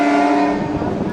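Hubli–Guntakal MEMU train running beside the Ballari Junction line, a steady rumble and rolling hum with tonal motor whine, heard from onboard, continuous and fairly loud throughout.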